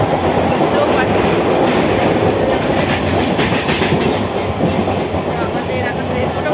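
Heard from inside a moving passenger train, a loud, continuous rumble of wheels on rails with a rhythmic clatter running underneath, and a hint of voices mixed into the noise.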